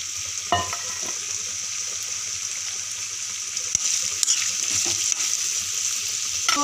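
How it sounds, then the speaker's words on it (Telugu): Bitter gourd pieces dropped into hot oil sizzle steadily and loudly at close range, with a constant bright crackle and a few clinks of a utensil, alone without talk. "నూనె కాగినాక ముందు కాకరకాయలు వేసుకోవాలి."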